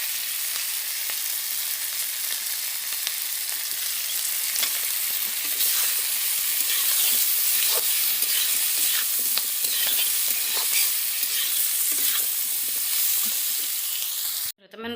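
Potatoes frying and stirred in a pan during Assamese home cooking, a steady loud sizzle with repeated scraping stir strokes throughout, cutting off abruptly at the very end.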